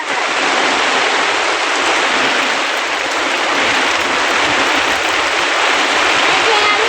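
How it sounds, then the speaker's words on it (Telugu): Heavy rain pours down steadily during a storm at a house, a dense, even hiss that holds loud and unbroken throughout. "వాటర్ పడుతుంది."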